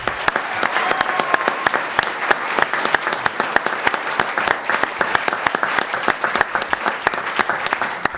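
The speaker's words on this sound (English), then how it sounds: "Let's give doTERRA one last round of applause." An audience at a city mayoral and council debate gives a final round of applause, a dense, sustained burst of many hands clapping that carries on without a break.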